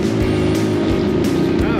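An 8-horsepower mini jeep engine labours up a snowy hill with a loud, steady straining drone. A voice talks over it.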